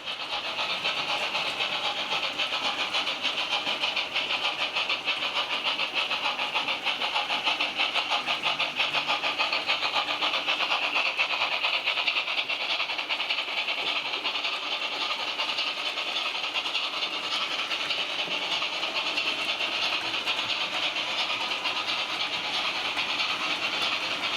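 A steady, faint mechanical whir with a fine rhythmic clatter as a digital model locomotive runs continuously uphill on an analogue-powered track.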